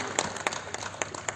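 An audience claps for an honoree at the Shanti Gaya Smriti Samman award ceremony, a dense, steady burst of applause with a few sharper individual claps standing out.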